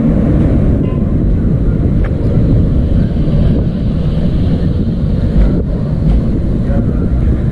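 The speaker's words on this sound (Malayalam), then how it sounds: "ഞാൻ വന്ന ട്രെയിൻ ഇതാ യാത്രയായിരിക്കുന്നു" The KSR Bengaluru–Kanyakumari Express pulls out of Kayamkulam Junction in a loud, continuous low rumble heard close by, buffeted by heavy wind noise with no pauses.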